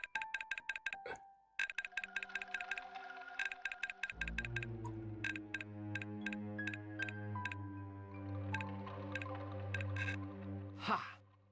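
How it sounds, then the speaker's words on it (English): Rapid mechanical clicks of a lock mechanism in the video game Runaway: A Road Adventure tick in bursts, followed by a sustained low metallic hum with further spaced clicks and a brief sharp rasp near the end. "That sound was obviously the mechanism falling into place."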